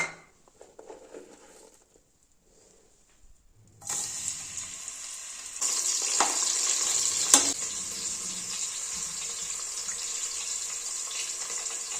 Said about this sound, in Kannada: ಇವಾಗ ಈರುಳ್ಳಿ ಹಾಕ್ಕೊಂಡ್ಬಿಡೋಣ